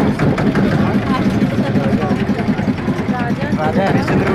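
A boat engine runs at Manikarnika Ghat, a loud, steady low chugging drone heard close by with people talking over it.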